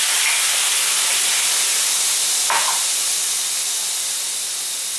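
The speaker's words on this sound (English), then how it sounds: "Add some coconut milk." Coconut milk is poured into a hot pan holding long grain organic basmati rice, and a loud, steady steaming hiss fills the whole clip with a brief splash partway through.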